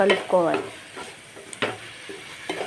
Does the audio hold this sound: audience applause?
no